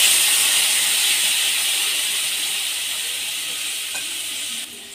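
Ground poppy seed paste, added with turmeric to lightly fried food, fries in a pan as a loud, steady hiss close by. The hiss slowly fades, then drops off near the end.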